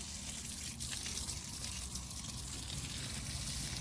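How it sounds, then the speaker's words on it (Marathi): Irrigation water runs to grapevines in a vineyard, a steady close gushing flow that holds an even level throughout with no talking. "झाडांना असं पाणी द्यायचं"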